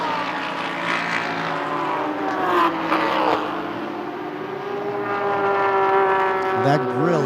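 Mercedes-AMG race cars sweep around a corner at a circuit, their engines rising and falling in pitch like a fighter plane as they pass close by, with a commentator's voice running over the sound.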